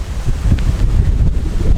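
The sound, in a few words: strong wind gusts on mountain top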